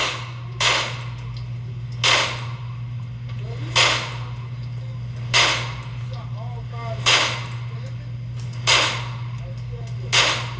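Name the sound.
gunshots from Canik SFX Rival pistol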